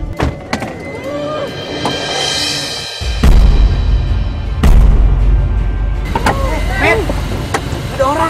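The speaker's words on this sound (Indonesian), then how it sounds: "Mobil berhenti!" A car pulls to a halt on an Indonesian road, with a heavy door thunk, motor hum and a power window whirring, loud and close, while people talk and shout over it.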